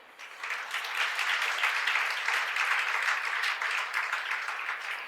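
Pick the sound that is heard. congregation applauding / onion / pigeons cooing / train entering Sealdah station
congregation applauding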